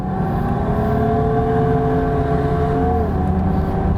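A 1985 Opel Monza GSE, a 180-horsepower car, revs hard at full throttle with a loud, sustained engine drone whose pitch climbs and then dips slightly, with no talking over it.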